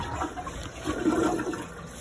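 A toilet flushes to carry away cat droppings, a steady rushing swirl of water that swells briefly near the middle and stays close and fairly loud throughout, with no talking over it.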